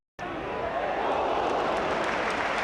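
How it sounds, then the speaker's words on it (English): A football stadium crowd at Everton, WBA, Arsenal, Manchester United, Nottingham Forest and Brighton matches lets out a broad, sustained roar of reaction to a near miss, swelling in suddenly and holding dense and loud. "it drew an ooh from the crowd"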